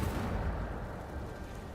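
Incendio fire spell cast in a fantasy video game, a loud dense rumbling burst of flame that roars at full strength and slowly eases off over under two seconds.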